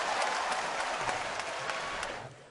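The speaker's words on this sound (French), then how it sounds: "Les garçons applaudissez pour vous" Boys in an audience applaud together, a dense steady wash of clapping that holds for a couple of seconds before thinning out at the end.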